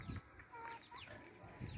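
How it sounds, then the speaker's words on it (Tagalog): Backyard chickens loose outside their coop, clucking softly at close range in short bursts amid faint outdoor background sounds. "Ito yung aking mga manok nakawala sa kulungan."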